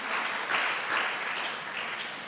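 Dense, steady applause fills a Teachers' Day (Seuseung-ui nal) commemoration ceremony hall, a close, continuous wash of many hands clapping without pause.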